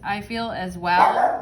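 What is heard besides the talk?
dog barking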